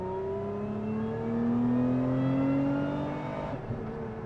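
A Lotus Emira's supercharged 3.5-litre engine revs up steadily with a rising whine as it accelerates, then drops off abruptly as the driver lifts off.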